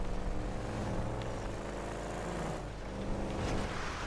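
A car drives in GTA 5 on a PS4, a low, steady engine hum with faint shifts in pitch, quiet and continuous and with no talk over it.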